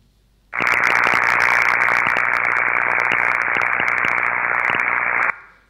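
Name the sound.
electrical corona discharge buzzing at 50 Hz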